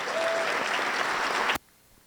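At a school winter concert, an audience claps for the parent association members and a staff member, a sustained burst of applause that cuts off abruptly to silence.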